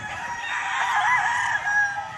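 A gamefowl rooster crows at a farm in Pilar, one loud, sustained call that fills the whole stretch alone.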